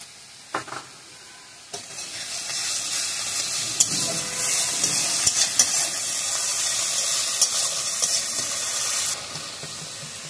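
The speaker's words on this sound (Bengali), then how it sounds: "পেঁয়াজ বাটাটা ভাজার সময় আমি একটু চিনি দিয়ে দেবো" Onion paste cooked with a little sugar fries in a pan, giving a close, steady sizzle with a few sharp clicks and scrapes of stirring across the clip, no talking.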